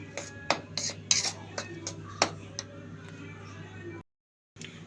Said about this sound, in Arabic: وهنخلط المكونات دي مع بعض